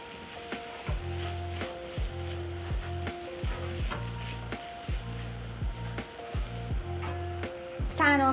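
Pork with spring onions stir-fries in a pan, a soft sizzle with regular scraping strokes and low thumps repeating about once a second, close and moderately quiet with no voices.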